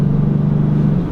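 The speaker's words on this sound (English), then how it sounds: "hearing that engine behind me or hearing the exhaust note behind me is definitely a nice sound" A 2014 Dodge Challenger's engine and exhaust rev hard on a downshift, a loud, steady, deep rumbling drone close by that holds without a break.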